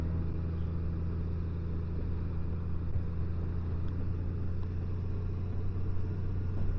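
A motorcycle engine holds a steady low rumble while riding along a road on a morning ride, with constant wind and road noise all the way through and no change in speed.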